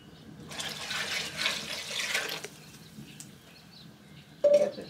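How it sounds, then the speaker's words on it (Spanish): Water is poured into simmering chili broth over a strong flame, a rushing splash lasting about two seconds, then quiet bubbling and a short sharp sizzle at the end. "Le vamos a agregar un poco más de agua, ¿eh?"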